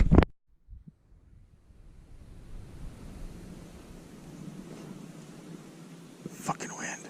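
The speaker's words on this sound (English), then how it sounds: "Fucking wind." Wind buffets a microphone beside a small lake in Oconto, Wisconsin, during bass fishing: a low, rumbling rush of steady gusts after a brief sharp knock at the start.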